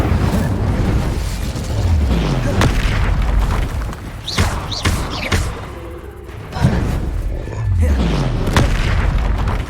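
Spell explosions in Hogwarts Legacy from Bombarda, Confringo and Incendio: repeated loud booms and bursts with rumbling tails follow one another across the stretch, with a voice faintly under them.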